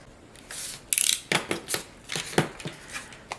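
Scissors cut out a paper frame for a double-sided folio in a run of crisp, close snips and rustles, irregular bursts coming one after another over quiet.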